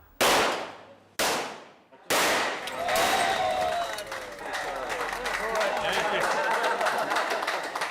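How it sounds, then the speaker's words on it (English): Gunfire at a shooting range near Bangkok: three loud, sharp, close shots about a second apart, followed by a sustained clattering wash of noise with voices mixed in. "First stop is the shooting range."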